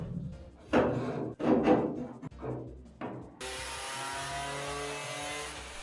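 An angle grinder or cutter works rusted steel on a vintage yacht: a few rising, rasping grinding passes, then a steady high-pitched whine that holds to the end.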